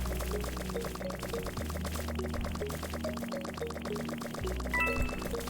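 Rapid, repeated bright blips chime in a steady stream over looping game music as experience points are collected one after another in Anime Fighters Simulator.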